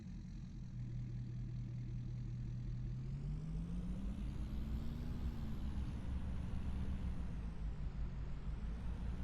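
A truck driving out to a farm property gives a steady, loud engine drone whose pitch rises and falls gently as it travels, running throughout without any talk.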